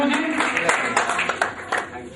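An audience at an awards function claps in a loose, uneven patter of hand claps with sharper individual slaps, mixed with crowd murmur and voices.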